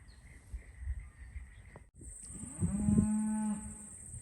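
Angus cattle in a farm pen, being sorted before sale: one loud, close, drawn-out moo rises after a quieter stretch of background noise and lasts about a second.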